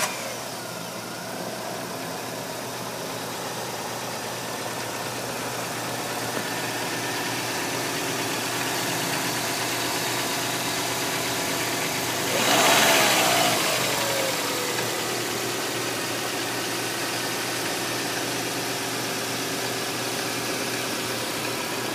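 A 1998 Dodge Neon with a 2.0 liter engine idles steadily at close range, with a short burst of louder revving partway through before settling back to an even idle.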